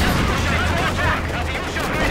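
A Panzerfaust anti-tank weapon fires during a Company of Heroes 2 battle. The blast sits inside a dense, continuous wash of gunfire and explosions that holds steady throughout.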